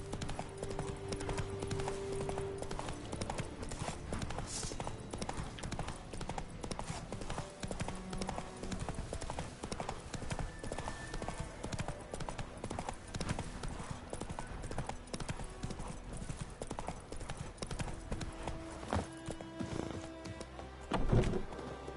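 Roach, Geralt's horse in The Witcher 3 next-gen, gallops with a steady, loud drumming of hooves that runs throughout, with a faint whinny and soft game ambience beneath.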